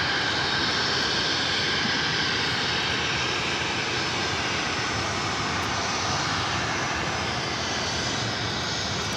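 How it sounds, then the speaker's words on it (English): A United Airlines jet takes off from LAX, bound for SFO, its engines a steady, loud, broadband roar that holds for the whole stretch with no voices over it. "This is United Airlines 1791 taking off to SFO."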